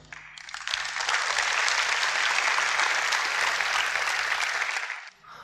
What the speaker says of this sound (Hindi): आप लोगों ने मेरे लिए बहुत तालियां बजाई